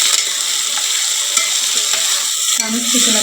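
Beetroot and onion stir-frying together in a pan, a steady loud sizzle with soft scraping of a spatula throughout, close by and with no voices.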